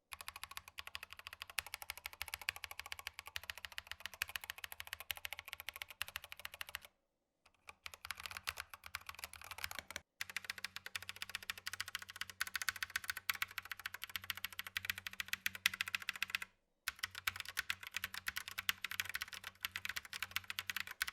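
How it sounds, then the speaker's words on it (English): Rapid typing on a Keychron K8 hot-swappable mechanical keyboard, a dense stream of clacking keystrokes, close up, broken by a few short pauses. "do a key type sound from when you have a foam inside and when you don't have foam inside"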